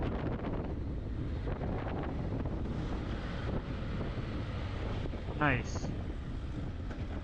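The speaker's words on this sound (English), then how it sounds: "It's windy as hell right now." Wind blows across the microphone while riding outdoors on a cold day, a soft, steady rumble with light buffeting; one short word is spoken partway through.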